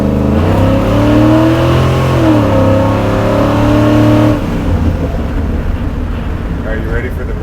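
A custom slammed Chevy C10 truck revs hard for a burnout, its loud, close engine roaring steadily with rising and falling pitch, then shifting into a rougher, broader rumble, while people talk over it.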